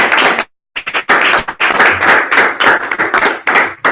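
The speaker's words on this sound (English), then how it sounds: "give him a round of applause." A room of trainees at a real-estate training session claps loudly and steadily, close and bright, with one brief gap near the start before the clapping resumes.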